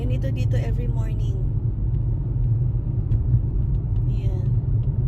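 Morning road traffic on a cold, snowy street in Canada: a steady, loud low rumble of idling and creeping cars in a long queue, continuous throughout with a brief passing whoosh near the start.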